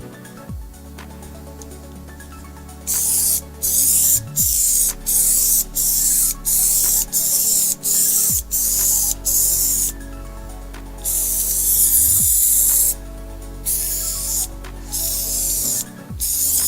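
Roof membrane adhesive hisses from a spray gun onto a polystyrene roof panel in about a dozen short, loud bursts with brief gaps. A low machine hum runs throughout.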